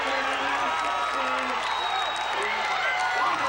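A crowd at a 1999 high school football game roars and cheers after a fumble recovery, a sustained wash of voices and whoops with a voice talking over it.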